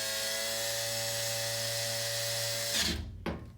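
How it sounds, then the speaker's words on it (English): A steady mechanical whine of a Porter Cable cordless drill motor running slowly in forward, then abruptly cutting off with a few rattling clicks near the end. "Put your drill back in forward, slowly"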